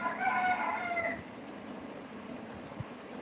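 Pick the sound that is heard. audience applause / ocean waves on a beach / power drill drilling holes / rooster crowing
rooster crowing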